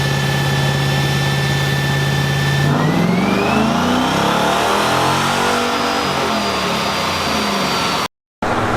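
Mopar car engine revving through full pulls, a loud steady drone that climbs sharply in pitch as it winds up, holding high and strained before cutting off abruptly near the end.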